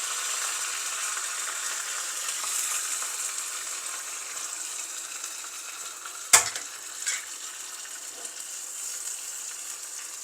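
Mustard seeds, curry leaves and onion sizzle steadily in about two spoonfuls of hot oil for a pumpkin and cassava milk curry, a constant close frying hiss with one sharp clatter midway and no talking.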